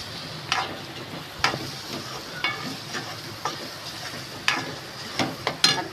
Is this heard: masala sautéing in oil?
yes